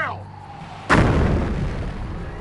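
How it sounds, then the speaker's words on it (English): A mortar or artillery shell lands with a sudden loud blast in the Company of Heroes Mobile war game, followed by a long rumbling decay; a short whistle or voice precedes it. "Artillery at us."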